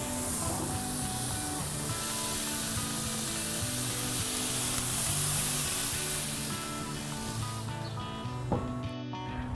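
Marinated Korean beef short ribs, Hawaii-style kalbi, laid on a hot grill give a steady, loud sizzling hiss that runs the whole stretch, with music playing underneath.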